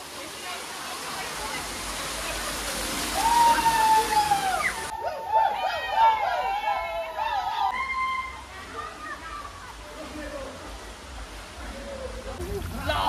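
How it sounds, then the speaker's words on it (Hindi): Cold water pours steadily from overhead inside a water park tunnel, a continuous splashing wash that swells louder midway, with excited voices and shouting over it. "देखिए वो पानी गिरता रहता है हर एक दो मिनट में"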